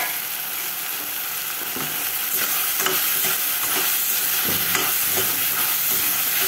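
Green chilli curry stirred in a pan, continuous sizzling hiss with scraping strokes of a spoon repeating across the clip, close and fairly loud, no voices.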